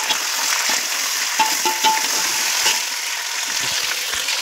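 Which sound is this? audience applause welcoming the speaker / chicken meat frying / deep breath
chicken meat frying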